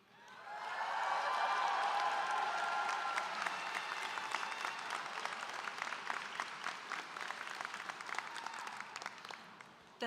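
Commencement crowd at a high school graduation breaks into sustained applause, many hands clapping from a broad audience heard from the podium, swelling quickly then holding steady for several seconds with scattered sharper claps.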